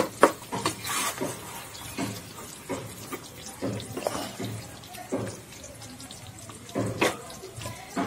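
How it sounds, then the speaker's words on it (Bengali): A pot of mutton curry with potatoes is stirred over medium flame after the lid comes off, with repeated scraping, clattering strokes in an uneven rhythm, close and fairly loud, no voices. "ঢাকনাটা খুলে আরো একবার ভালো করে নাড়াচাড়া করে নেব"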